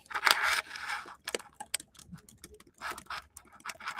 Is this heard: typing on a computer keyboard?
yes